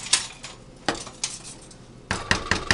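Metal utensils clank and scrape against a pot while sausage gravy cooks, several sharp irregular clatters close by with quiet stirring between them.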